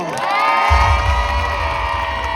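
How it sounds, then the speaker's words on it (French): A crowd cheers and whoops at a live U15 final at La Villette as one finalist is introduced, loud, continuous and sustained with no clear talk over it. "que je vous demande d'applaudir bien fort"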